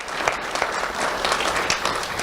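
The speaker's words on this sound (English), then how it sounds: "Let's give a round of applause to our civilian support unit" An audience applauding a civilian support unit at a sheriff's office awards ceremony, with steady crowd clapping throughout, even and fairly loud, with no talk over it.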